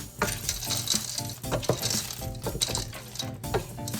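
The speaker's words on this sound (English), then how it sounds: "So put all the pasta in there, and then you're gonna give it a nice mix." Cooked pasta and sausage are stirred in a pot, with close wet squelching, scraping and clinks of a utensil against the pot in uneven bursts, and no one talking.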